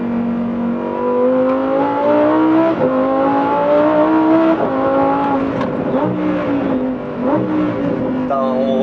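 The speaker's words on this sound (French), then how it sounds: "le son moteur est fou" A Lamborghini Huracan STO's engine screams on a race track, climbing through gears with rising, falling pitch, loud and sustained, with brief shift dips and faint talk underneath.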